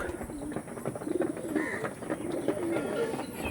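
Tournament racing pigeons coo repeatedly in soft, low, rolling calls, several birds close by, with a faint rumbling hum in the background.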